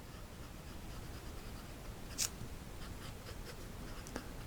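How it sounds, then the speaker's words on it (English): A black Platinum 3776 Custom fountain pen with a medium 14 karat gold nib scratching softly across paper, a faint continuous rasp with a few slightly sharper strokes, heard up close and without speech. "I'm going to go ahead and write with the black version to give you a comparison"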